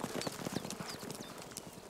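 Horse hooves clip-clopping in a steady rhythm during a riding lesson, faint and somewhat distant, with no talk over them.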